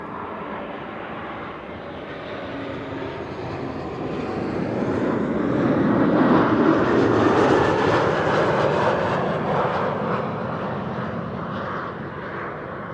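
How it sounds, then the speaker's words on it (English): A KLM Embraer 190 arriving at frosty Amsterdam Schiphol from Norwich, gear still up, approaches with a rising jet whine and roar that peaks midway and then recedes, heard alone at moderate distance. "We'll hear an Embraer 190 pass us by"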